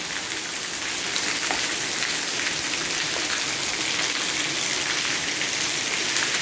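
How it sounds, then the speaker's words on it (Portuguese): Heavy rain pours steadily in Rolândia, northern Paraná, on an early-January afternoon, a dense, continuous hiss of drops drumming on surfaces with no voices. "Muita chuva."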